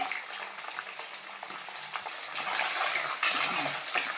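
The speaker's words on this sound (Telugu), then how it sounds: "దీన్ని ఫ్రై చేసుకోవాలండి మొత్తంగా." Mutton pieces fry in hot oil for pickle, giving a steady loud sizzle that swells louder midway, with occasional stirring clinks and scrapes against the pan.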